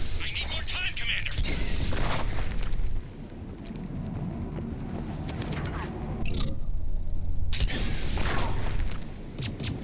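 Gunfire and explosions in the Mass Effect 3 video game, a dense, loud barrage of booms and mechanical combat noise running throughout, with several sharp bursts standing out and voices speaking over the battle.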